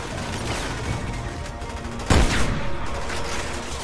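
A single sharp burst of gunfire in the video game Resident Evil 6 cracks out partway through, loud and close, over a constant background rumble.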